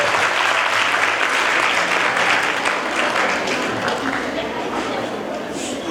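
A crowd at a college function bursts into sustained applause as a chief guest is invited to the stage. The loud, continuous clapping is mixed with faint chatter and eases slightly toward the end.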